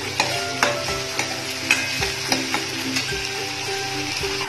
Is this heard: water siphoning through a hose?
no